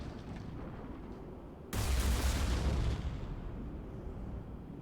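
A bomb blows up in the Mass Effect 3 video game, a sudden loud blast with a deep rumbling boom that holds for about a second before fading into a lingering roar.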